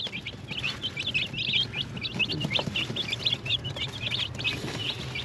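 Young Chinese chickens chirp in a backyard, a rapid series of high peeps repeating steadily at moderate distance over a low background murmur.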